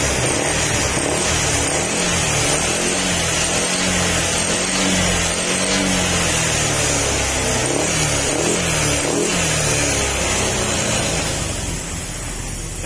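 A Honda Click 150 scooter with a wiring fault idles steadily after a cold start, a continuous close, even engine hum that stays constant for about thirteen seconds with no talking.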